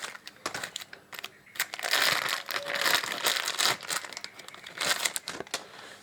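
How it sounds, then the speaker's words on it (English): Crinkling and crumpling of packaging as Harley-Davidson Deuce motorcycle parts are unwrapped, close and fairly quiet, in bursts of rustling with short pauses. "I'll unwrap them both"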